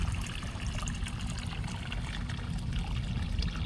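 Water pours steadily into a garden container holding hydrangeas, filling it toward the brim; a continuous, close trickle and splash runs without a break under a low rumbling background.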